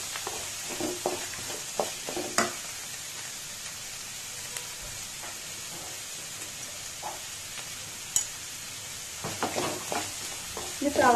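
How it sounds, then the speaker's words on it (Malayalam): Onions sauté in a pan for Malabar shark curry with roasted coconut, giving a low steady sizzle and hiss, with intermittent stirring scrapes and clinks. "ഒന്ന് സവാള വഴണ്ട് വരട്ടെ"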